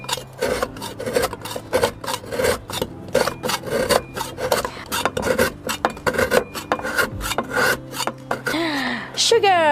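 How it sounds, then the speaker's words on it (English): Rough, rhythmic rasping as a hard block of palm sugar is scraped and ground, with repeated close strokes and a brief sliding scrape at the finish, heard alone. "I'm going to kind of like grind them out"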